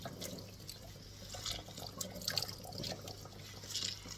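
Water runs and drips as boiled endive is lifted from its pot and squeezed by hand in a kitchen, a close, steady trickle with splashy bursts and droplets.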